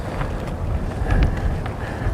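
Gusty wind blows across an outdoor disc golf course at the 2002 Masters Cup in Santa Cruz, California, a steady low rumble of buffeting on the microphone that swells slightly midway, with no talking.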